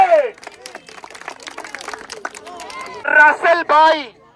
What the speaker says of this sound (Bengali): জোরে তালি হবে।